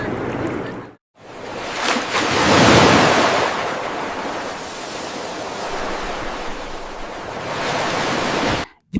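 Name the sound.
waves on Nagaon Beach, Alibaug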